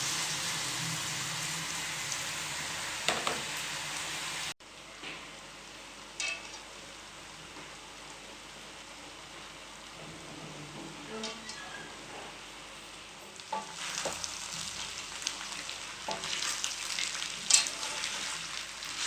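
Macaroni is stirred into a frying masala for chicken macaroni, giving a soft sizzle with scattered scraping and clinking, fairly quiet and close, and an abrupt drop in level partway through before the frying noise rises again.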